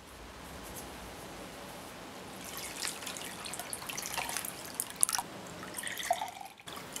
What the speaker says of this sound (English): Drain the tea through a tea towel or a cheesecloth.